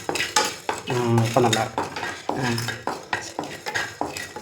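Ingredients for chicken masala dry-roasting in a pan, a spoon scraping and clattering against the metal with a faint sizzle, while someone talks over it.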